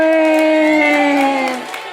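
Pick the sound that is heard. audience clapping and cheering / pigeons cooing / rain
audience clapping and cheering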